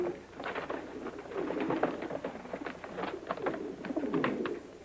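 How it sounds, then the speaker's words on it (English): Soft, repeated cooing of several pigeons, overlapping throaty calls in an uneven rhythm, close by with no talking. "Sounds like pigeons."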